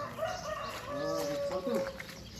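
Chickens at a rural Nepali farmhouse: a few soft clucks and short crowing calls, fairly faint and somewhat distant, with light background noise.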